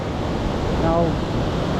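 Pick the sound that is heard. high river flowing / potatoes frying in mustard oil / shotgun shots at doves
high river flowing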